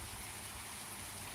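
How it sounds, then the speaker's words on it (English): Steady rain and gusting wind outdoors in Jesenice, a dense continuous hiss with low rumbling buffets, close and unbroken, with no talking. "it's raining in my face, on me, and the wind is blowing so hard it's hard to keep my cap on my head"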